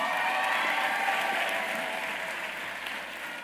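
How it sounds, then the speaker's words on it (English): Audience applause at a graduation ceremony, dense sustained clapping from a large crowd that tapers slightly toward the end. "One more round of applause, please."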